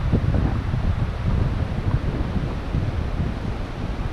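Strong wind gusting steadily at a Himalayan base camp on the Annapurna trek, a loud continuous roar buffeting the microphone throughout with no voices.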